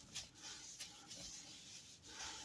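A steering wheel being wiped with leather cleaner, a steady soft rubbing swish running throughout at low level, close and without voices.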